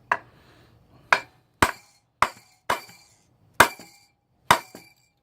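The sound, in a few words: hammering a GY6 brake shoe anchor pin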